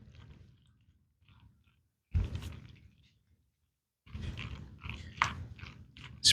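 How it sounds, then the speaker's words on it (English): Shredded Hawaiian pork butt seasoned with salt and pepper being mixed by hand, giving wet, squishy, mud-like squelches in two short bursts separated by silence, close and fairly quiet. "Mix it all up. You want it to sound like you're walking in mud."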